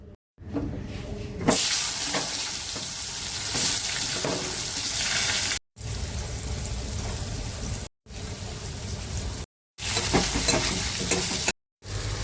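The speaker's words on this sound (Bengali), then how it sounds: "এবার আলুটাকে মাছের তেলেই ভাজা করব।" Long strips of potato frying in leftover fish oil, a loud continuous sizzle with stirring scrapes, broken by a few brief silent cuts.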